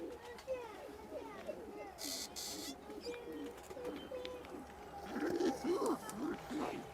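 Large-breed pigeons coo repeatedly in soft, rolling calls, with a louder cluster near the end, while someone talks over them in the background.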